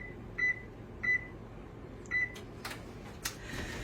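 An oven control panel being set to preheat at 350 degrees gives three short, sharp electronic beeps spaced about a second apart, followed by a couple of soft clicks over a low room hum.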